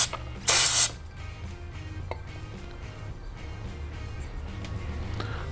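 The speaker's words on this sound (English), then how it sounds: "I'm just gonna spray this down" A short, loud burst of carburetor cleaner spray hisses once onto a Yamaha V Star 650 carburetor, followed by quiet mechanical clicks and faint tapping in a hushed room.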